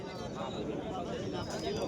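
A Bihari pigeon at Beldanga pigeon market gives soft, low cooing, partly masked by a dense crowd of voices and general market bustle.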